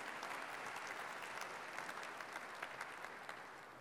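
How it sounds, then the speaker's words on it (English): Keynote audience at a tech conference gives a steady round of applause for the lead engineer and his team, dense even clapping held at a moderate distance for several seconds, gently tapering toward the end with no voices over it. "Big round of applause for Franz and his team."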